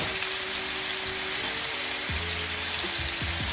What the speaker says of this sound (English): All right, all the chicken in. That's what you should hear.